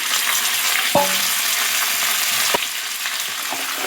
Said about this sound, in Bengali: তো এর মধ্যে সব সবজিগুলো, ভেজে রাখা সবজিগুলো দিয়ে দিলাম